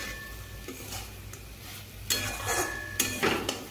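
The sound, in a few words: frying and stirring red amaranth greens in a pan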